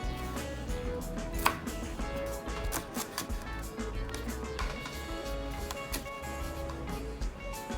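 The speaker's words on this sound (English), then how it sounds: "And now we are going to chop the onion leaves." Knife chopping onion leaves on a board for a crab omelette, irregular close taps and clicks running steadily throughout under soft background music.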